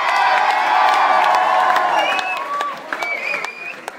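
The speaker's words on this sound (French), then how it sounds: "On peut applaudir Jean-Marie quand même." Comedy-show audience in Strasbourg applauding and cheering, a loud dense wash of clapping that tapers off over a few seconds, with scattered whoops and voices near the end.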